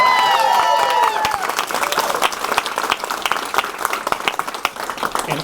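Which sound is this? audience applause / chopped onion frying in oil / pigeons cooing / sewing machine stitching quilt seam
audience applause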